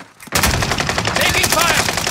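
Rapid bursts of gunfire and machine-gun fire erupt loud and close in a combat video game, starting abruptly after a brief quiet moment and continuing densely to the end.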